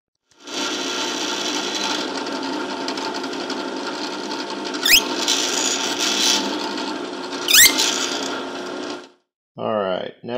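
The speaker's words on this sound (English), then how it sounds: "I'm going to drill pilot holes in all these" A steady, close-up mechanical whine of a drill boring pilot holes in wood, running for several seconds with two brief spikes, then stopping; a short voice follows.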